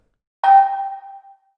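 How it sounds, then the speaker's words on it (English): A Minecraft village bell struck once, pitched up and drenched in reverb: a bright, clear ding that rings out and decays smoothly over about a second. "decently recreated with the village bell being hit"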